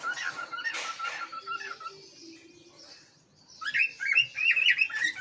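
Birds chirp and tweet close by near a covered window in a hot home kitchen, a soft scattered twittering at first, then a louder burst of rapid, bright repeated calls toward the end.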